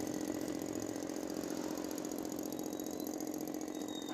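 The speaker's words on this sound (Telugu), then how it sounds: "చూడండి, మనకు మోటార్ అయితే ఆన్ అయింది." A small RO water filter pump motor runs steadily after being switched on, a continuous close buzzing drone with a faint high whine, alone without talk.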